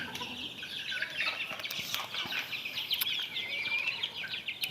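Native chickens on a balcony poultry setup cluck and call steadily with bird chatter throughout, moderately near, with no talking.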